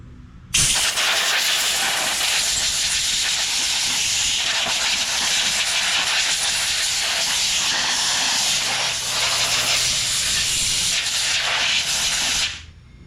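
A continuous loud hiss of compressed air blows crud and debris off a Briggs and Stratton 6.75 Quantum lawn mower engine on a Craftsman 21-inch push mower, starting abruptly, holding steady for about twelve seconds, then cutting off.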